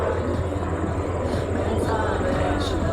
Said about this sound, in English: Now that helicopter in the lead, it can perform a range of missions